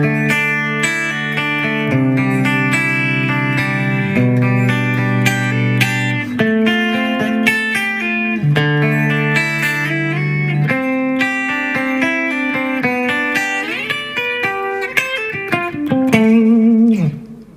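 Electric guitar solo in D mixolydian, with distorted lead lines running through chord tones, scalar runs and double stops over a steady backing, loud and continuous for the whole passage.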